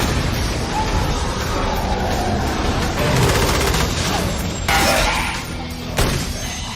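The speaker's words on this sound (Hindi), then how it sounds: "जॉन अपनी बंदूक लेता है और वहाँ बेस पे मौजूद सारे एलियंस को खत्म करने लगता है।" Heavy gunfire against aliens on a base in the Doom film: loud, dense automatic bursts mixed with booms and crashes, a chaotic, continuous barrage.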